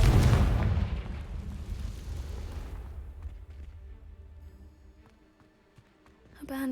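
A Confringo spell explosion in Hogwarts Legacy bursts loudly at the start, then rumbles and fades over several seconds, followed by a quieter stretch and a fresh sound rising at the end.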